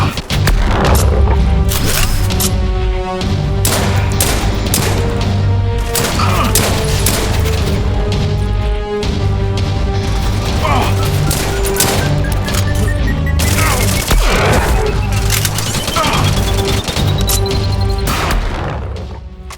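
Rapid, relentless gunfire in the space shooter SpaceBourne 2 crackles over a steady bed of game music and booming impacts, with occasional explosions and a rising whistle near the end.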